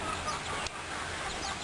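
A broody hen on a small farm gives soft clucks amid a steady, noisy outdoor background, the calls faint and brief.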